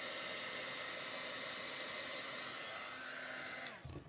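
A hair dryer blows steadily on chalk paste, a loud, even whooshing hiss that runs continuously, then cuts off abruptly near the end.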